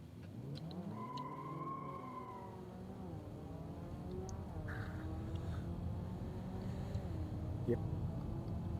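A 380-horsepower sedan engine in the BeamNG driving game revs, its pitch sweeping up and down in a steady, fairly loud drone over about nine seconds.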